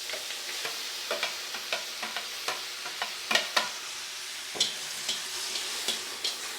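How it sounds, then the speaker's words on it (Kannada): Tomatoes with ginger and curry leaves fry in a pan for lemon rasam, a soft continuous sizzle broken by sharp scraping strokes of a stirring spoon at an irregular rhythm, with no voices. "ಚೆನ್ನಾಗಿ ಫ್ರೈ ಆಗಬೇಕು."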